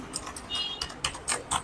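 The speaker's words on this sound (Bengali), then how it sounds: "এবার আমরা ব্লু কি সাউন্ড একটু শুনে নিই" Clicky keystrokes on a PC Power K98 RGB mechanical keyboard with blue switches, a few sharp separate clacks at an uneven typing pace, close and fairly quiet.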